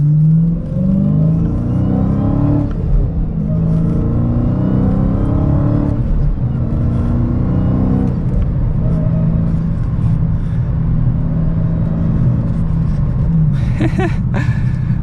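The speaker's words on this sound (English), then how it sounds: "we'll do another acceleration here while we're coming around a turn" A Dodge Challenger SRT Hellcat with a six-speed manual accelerating through a turn, its deep, loud exhaust rumble climbing steadily in pitch, easing briefly between pulls, with no voices.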